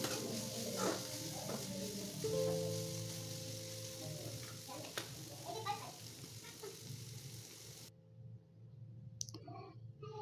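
Boiled fish roe frying in a pan with lightly cooked stems, a close, steady sizzle with scattered crackles and clicks, fading briefly near the end, with no talk.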